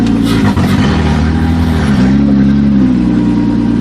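A Toyota Camry engine runs roughly, loud and close, with an uneven, lumpy drone that wavers in pitch for a few seconds and has no voices over it.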